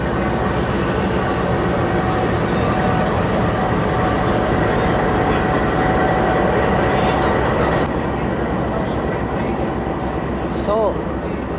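A Pakistan Railways passenger train departing rumbles steadily at close range with a continuous roar of wheels on rails, a loud dense noise that holds throughout, with faint squeals near the end.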